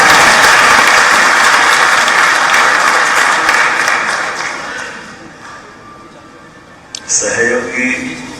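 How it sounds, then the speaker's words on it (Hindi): An audience at a public event in Bhopal claps steadily and heartily for several seconds, then the applause gradually fades out. A voice begins speaking over a microphone at the end. "ताली बजना तो दिल खोल के बजाओ, आनंद से बजाओ"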